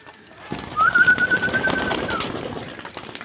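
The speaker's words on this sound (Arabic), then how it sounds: "الحمام بياكل، صوري الحمام وهو بياكل" Pigeons coo while eating feed during winter rearing, a close, soft run of throaty coos and warbling calls over light pecking and shuffling, with no talk.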